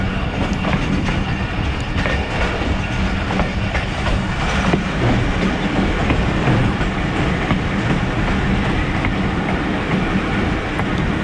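The 130DN Thal Express passenger train rolls along the rails in a loud, continuous rumble, with wheels clattering steadily from inside the carriage.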